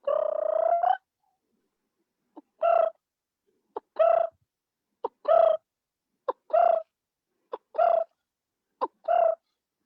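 A human voice imitates the coppersmith barbet's call in a forest at Amba Ghat, giving a long opening note and then short, evenly spaced hollow hoots at a steady pace, with quiet between.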